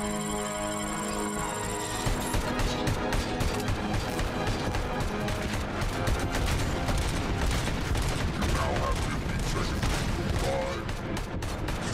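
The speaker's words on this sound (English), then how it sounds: "Bro, you're already shooting at me." Dense, continuous gunfire in a Robocop video game, rapid overlapping shots and bursts sustained loudly for most of the stretch after a short musical opening.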